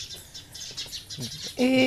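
Sparrows chirp around bird houses in quick, high bursts against a quiet background, ending with a louder sustained tonal call.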